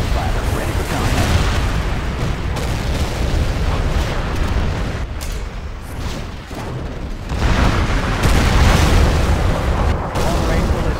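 In the C&C Generals Shockwave Remastered strategy game, HIMARS rockets launch and detonate amid a dense, continuous barrage of booming explosions and rumbling artillery, with brief unit voice lines over the din.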